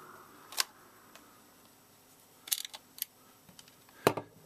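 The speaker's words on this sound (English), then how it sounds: "there are a couple of little screws here holding the cartridge together, so I'll remove those to start with" Small screws come out of a Sega Mega Drive game cartridge, giving sparse sharp clicks and ticks from the screwdriver and plastic shell, several isolated snaps in a quiet room with no talk.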